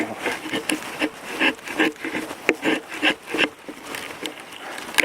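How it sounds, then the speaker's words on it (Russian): An axe shaving thin wood chips from a small log for kindling, a run of short scraping, rasping strokes in quick irregular rhythm, close and moderately loud with no talking. "настругиваем щепочки"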